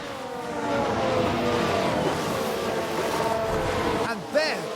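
Red Bull car crash replay in the racing game F1 Manager 2022: steady engine and track noise with a swelling rush and a brief sharp impact near the end, under a commentator's voice.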